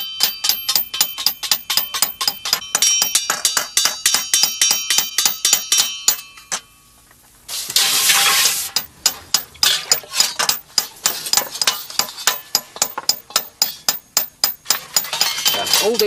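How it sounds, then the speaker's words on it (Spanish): Iron is worked by hand at high heat into helmet pieces for a medieval knight's armour, with sharp metallic hammer strikes ringing in a steady rapid rhythm, a brief pause, then a burst of noise before the regular pounding resumes. "a mano, golpeando y modelando el hierro a altas temperaturas"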